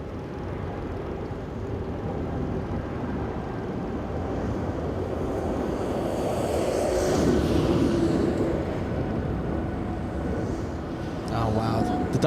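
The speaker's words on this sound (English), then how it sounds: "we're going to be seeing Philippine Airlines lift off any second" Philippine Airlines airliner taking off at LAX, a broad, steady jet roar heard from a distance that slowly swells and fades under wind buffeting and a person talking.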